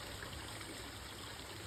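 Water from a hose spills down into a small man-made basin at a summer camp lodge, a soft, even trickling rush that runs without a break and without voices.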